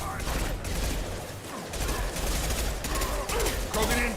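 Dense, continuous gunfire from a Mass Effect 2 firefight, heavy sustained bursts filling the scene with loud, overlapping shots, with voices shouting over the combat.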